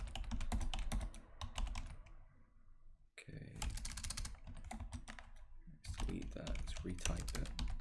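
Rapid typing on a computer keyboard, close and crisp, in bursts broken by short pauses, with soft whispered talk in the background.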